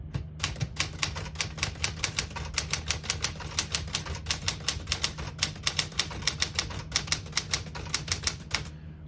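A 1966-72 Smith-Corona Galaxie Deluxe manual portable typewriter types steadily, with a fast, even run of crisp key strikes, close and clear, with no talking.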